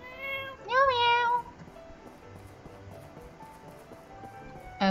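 A cat in the My Time at Portia video game gives one clear rising meow near the start, followed by quiet background and another call beginning at the very end.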